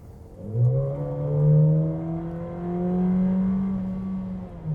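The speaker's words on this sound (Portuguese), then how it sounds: "motor responde bem, 250 TSI, né? 150 cavalos." Volkswagen Nivus GTS with its 250 TSI 150 hp engine revving steadily on a track, a smooth rising and holding engine drone heard alone and close from inside the car.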